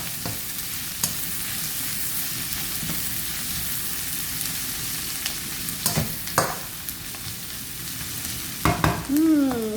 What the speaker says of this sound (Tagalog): So, I'll saute the garlic now.